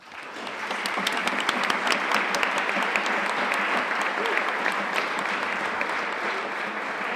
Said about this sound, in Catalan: així que un aplaudiment pel jurat